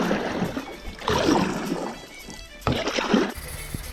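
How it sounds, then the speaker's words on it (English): A Laser sailing dinghy with its mast down being paddled through a canal past locks in Scotland, with irregular close splashing and sloshing water strokes in uneven bursts. "I've taken the mast down and I paddle through anyway"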